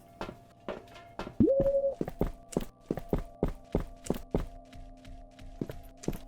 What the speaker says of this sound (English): I hear footsteps, which means we should just leave